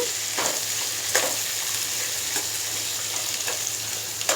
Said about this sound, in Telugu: ఆనియన్ కొంచెం ఫ్రై అయిపోయిన తర్వాత అప్పుడు బీరకాయ ముక్కలు వేసేసుకోవచ్చు.